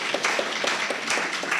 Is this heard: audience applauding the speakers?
yes